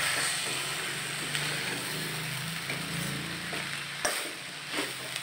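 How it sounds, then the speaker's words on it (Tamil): Cowpea sundal with coconut being stirred in a pan over a medium flame: a steady sizzle with soft scraping and stirring strokes, plus a sharp clack near the end. "நம்ம எல்லாத்தையும் போட்டு ஃபைனலாக மிக்ஸ் பண்ணிடல"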